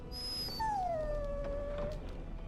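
A dog in the video game Dragon Age Origins gives a single drawn-out, high whimpering whine that slides down in pitch, fairly close and alone over a low background hum.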